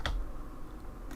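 Faint, quiet keyboard typing on a computer, with a couple of soft isolated key clicks at the start and end over low background hum.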